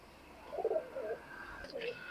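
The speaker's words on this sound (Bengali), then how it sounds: "এগুলো দেখেন একজোড়া কালদম কবুতর" A pair of Kaldom pigeons coo softly at close range on a pigeon farm, a few quiet throaty murmurs in a brief burst.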